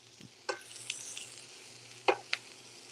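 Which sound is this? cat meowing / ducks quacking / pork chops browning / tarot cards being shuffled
pork chops browning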